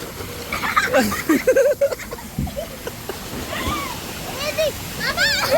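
A child dives into a swimming pool with a short watery splash, amid splashing water and lively children's and adults' voices chattering nearby.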